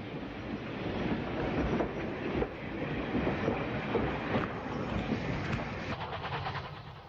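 Southern Railway steam Pacific locomotive getting its train underway in 1950s–60s archive footage, a continuous rumble of wheels with rhythmic rail knocks throughout.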